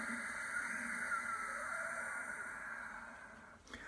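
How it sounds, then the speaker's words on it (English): Soft, steady breath hiss through a narrowed throat in Ujjayi yoga breathing, a long airy whistling exhale that stays smooth and gently fades near the end, with no talking. "sweet, silky, whistling Ujjayi breath on the back of the throat"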